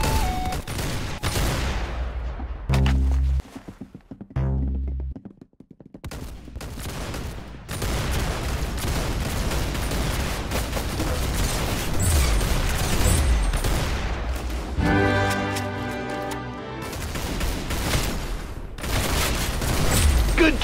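Gunfire in the Arsenal video game: loud, rapid bursts of shots and booming blasts fill the stretch, with short gaps between volleys and heavy, dense firing near the end.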